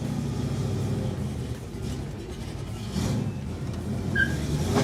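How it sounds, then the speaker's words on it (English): A 1969 Chevrolet Camaro engine roars steadily and loudly nearby, a deep low rumble that swells and intensifies toward the end. "the sound intensified, letting everyone around know this Camaro meant business"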